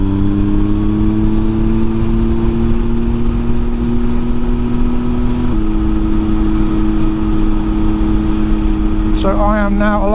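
A motorcycle accelerating to overtake a car: a loud, steady engine drone with a noticeable shift partway through, wrapped in heavy wind noise, and a short warbling electronic tone near the end.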